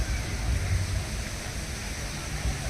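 Wind and water lapping around oars on a lake in Budapest, a steady broadband wash with low rumbling gusts, continuous and fairly close, no voices.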